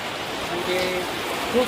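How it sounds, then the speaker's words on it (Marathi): Heavy rain pours outside during a flood, heard from indoors in a room as a dense, steady wash of hiss with no break. "एवढा पाणी पडतोय की जसं काही पावसाळाच लागल्यासारखं वाटतंय."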